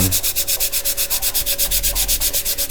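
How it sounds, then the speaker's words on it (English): Rapid, rhythmic rasping of sandpaper rubbing back and forth on hard putty, about eight strokes per second, close and steady with no talking. "I'm going to be sanding this down"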